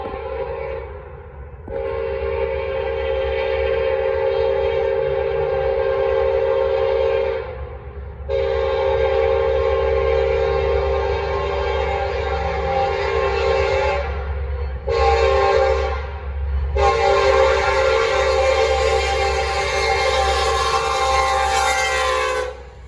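A Norfolk Southern freight train passes close by, its horn blaring in several long, loud blasts with short gaps, over a steady low rumble of wheels and engines throughout.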